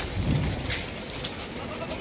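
A Barbari goat buck on a farm gives a short bleat against constant background noise of livestock and the surroundings, with no speech.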